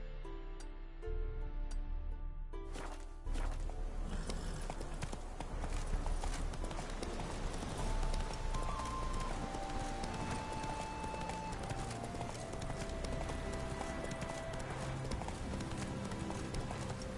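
Roach, a horse in The Witcher game, galloping in a steady, rapid run of hoofbeats, close and continuous over game music.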